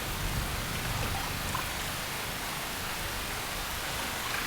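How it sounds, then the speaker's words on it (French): Rain falls in the Amazon rainforest as a steady, even hiss of drops, unchanging throughout with no other sounds. "La pluie continue de tomber."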